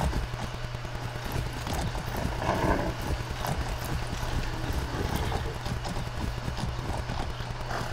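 A horse in the video game Far Cry 6 galloping, with fast rhythmic hoof clip-clops pounding steadily and close for several seconds over a dense game soundscape.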